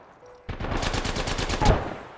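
Rapid automatic gunfire in the video game Apex Legends, a fast burst of evenly spaced shots lasting about a second and a quarter, loud and close after a brief quiet moment.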